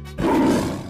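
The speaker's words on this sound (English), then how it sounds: "Tiger." A tiger gives a short, loud roar in a cartoon animal sequence, one sudden throaty burst, close and unaccompanied.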